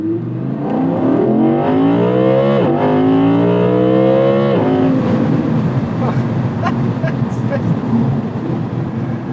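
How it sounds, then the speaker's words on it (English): An Audi R8 V10 Performance 620 PS revs hard through rising gear pulls in sport mode, then downshifts with sharp barks and crackles, loud and close from inside the car, with a voice heard over it. "The downshifts. Listen to that bark."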